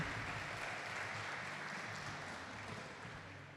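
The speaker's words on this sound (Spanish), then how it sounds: "Dar un aplauso al Señor." Faint, distant applause from a church congregation, a soft continuous patter of many hands that slowly tapers off.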